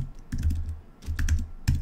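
Fingers type on a computer keyboard while reaching around a microphone, producing close, clattery bursts of rapid key taps in three short runs separated by brief pauses.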